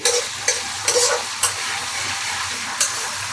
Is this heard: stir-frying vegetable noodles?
yes